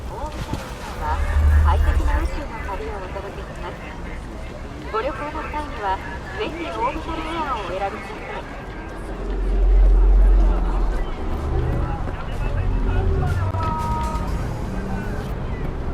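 Car driving in Cyberpunk 2077, a factory-new ride: a steady low engine and road rumble with swells of acceleration, running under in-game voices and background music.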